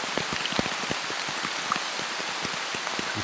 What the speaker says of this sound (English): Nice big rain.